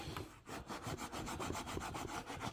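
Steady back-and-forth rubbing strokes, close and fairly loud, as wax is worked into a canvas bag, about a dozen rhythmic scrapes with no talking.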